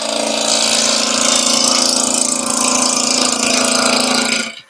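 A wood lathe motor hums loudly and continuously with a constant whirring tone as a roughing gouge shapes a wooden spatula, then cuts off abruptly near the end.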